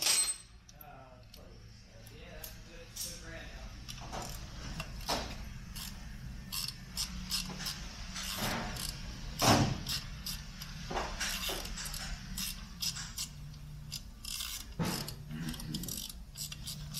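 Ratchet clicks as a 5mm Allen socket turns cover bolts on an Airhead motorcycle, short bursts of metallic clicking in uneven rhythm, close and fairly quiet.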